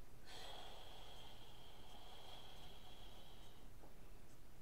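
A puppet's breathy exhale blown onto a Bible, one soft sustained hiss lasting about three seconds, close and faint, with no talking.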